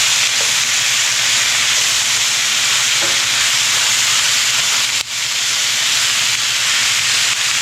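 Steak bites browning in a pan with butter and garlic give a steady, loud sizzle and hiss, close by and continuous, with no voices.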